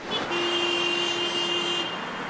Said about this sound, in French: Les klaxons.